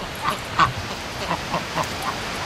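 Ducks in and around a backyard duck pen quacking in a short series of about six distinct calls, fairly close and clear over a quiet background.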